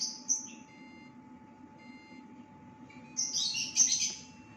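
An automatic spot welder gives brief high electronic beeps, one near the start and a busier cluster toward the end, while birds chirp in the background of a quiet room.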